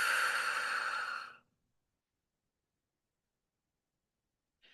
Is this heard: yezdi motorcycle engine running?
no